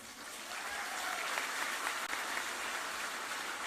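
Steady, dense applause from a large audience at a Filipino community welcome event in Jerusalem for President Rodrigo Duterte, a continuous wash of clapping sustained for several seconds with no speech on top.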